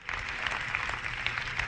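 An audience at a church sermon applauds steadily, a dense, even crackle of many hands clapping together that fills the short stretch without voices.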